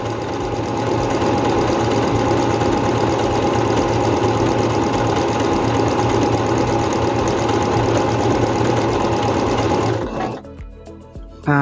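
A Singer C5605 electronic sewing machine stitching fabric, a loud continuous buzzing whir of the needle running steadily for about ten seconds before stopping abruptly.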